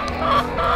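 Chickens clucking outdoors in a garden where laying hens roam and sun themselves; a steady, close, fairly loud run of clucks with no talk.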